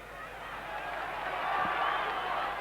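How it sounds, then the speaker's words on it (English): Steady roar of a football stadium crowd at a 1990 Colombia versus USSR friendly match, a continuous broad wash of massed voices swelling slightly, distant and diffuse. "the crowd wanting action"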